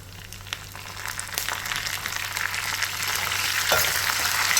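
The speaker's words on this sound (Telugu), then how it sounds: "ఇప్పుడు మిక్సీ పట్టుకున్న మన పచ్చడిని పోపు పెట్టుకుందాము" Spices crackle and sizzle in hot oil as a tempering for nalleru (veld grape stem) chutney, a steady, close frying hiss that grows slightly louder toward the end, with no talking.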